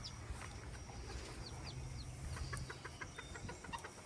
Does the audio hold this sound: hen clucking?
yes